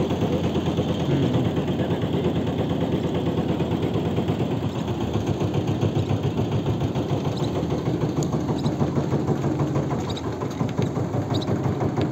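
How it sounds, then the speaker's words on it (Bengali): Sand-carrying trawler boat on the Brahmaputra river, its engine chugging in a steady, loud, rapid low throb that runs unbroken from start to end without talk. "এই যে ট্রলার দেখতে পাচ্ছেন।"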